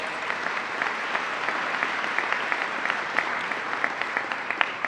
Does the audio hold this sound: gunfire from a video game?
no